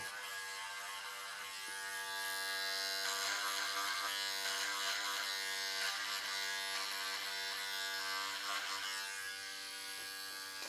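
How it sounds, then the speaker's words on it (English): Foil shaver attachment on a Brio Beardscape trimmer buzzing steadily up close, a continuous electric hum that swells slightly louder in the middle as it works across a head, with no talking. "this works fantastic as a foil shaver for your head"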